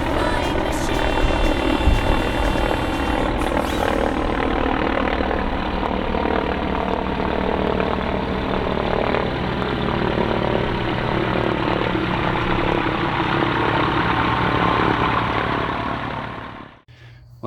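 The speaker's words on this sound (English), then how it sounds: "just as I was finishing up my taxi run there, the engine stalled, and then it started again fairly quickly" A seaplane engine on a taxi run roars loud and steady with a propeller drone, then briefly cuts out near the end and catches again.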